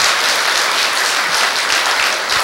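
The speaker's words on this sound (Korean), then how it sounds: "큰 박수 부탁드립니다" Loud, dense applause fills a hall at a Buddhist memorial service for Military Chaplains' Day, a continuous close wash of many hands clapping with no voices over it.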